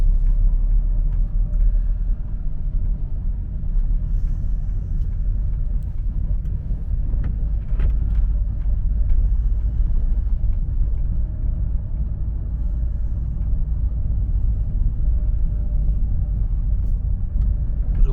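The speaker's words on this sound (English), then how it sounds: "Windy and cold out there." Cold, wet winter wind blows outdoors at the top of a dam wall amid rain turning to snow, a steady, loud low rumble and buffeting roar filling the whole stretch with no speech.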